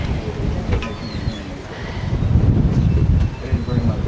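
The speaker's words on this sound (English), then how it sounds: "It is very windy today." Steady wind buffets the microphone at a high point on a bike ride in St. Augustine, Florida, with rumbling low gusts that swell and ease, without any speech.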